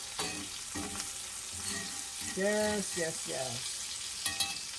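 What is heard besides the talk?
ribeye steak and onions sizzling in a pan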